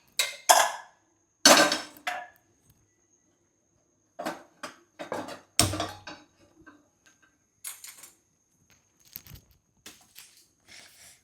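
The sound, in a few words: pressure cooker being placed on gas stove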